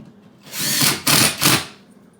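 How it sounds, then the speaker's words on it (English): A power drill drives screws into a drywall patch, three short whirring bursts in quick succession, close and fairly loud, with no talking. "I'm putting in 5 screws, and then I go back, gently tighten these a little bit more."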